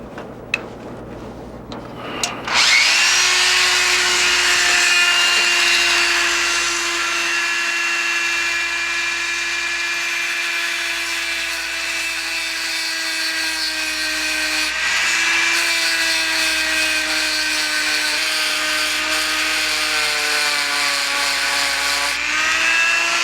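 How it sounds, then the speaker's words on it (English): A Dremel rotary tool whines at a high, steady pitch while grinding a flat bevel onto a Lionel model train pickup shoe. It starts after a few clicks and runs continuously, its tone dipping slightly under load. "The tool that we want to use is any round Dremel tool with a flat surface,"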